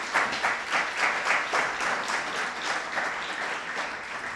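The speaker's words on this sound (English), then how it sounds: "give a round of applause for your faculty and staff" Audience applause for faculty and staff at a postdoctoral awards ceremony, a full room clapping in steady, slightly pulsing waves at moderate volume with no talk over it.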